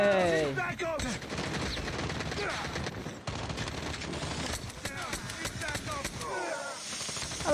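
Rapid automatic gunfire in the mobile shooter Call of Duty Mobile, loud continuous bursts of shots with brief pauses, sounding over game effects.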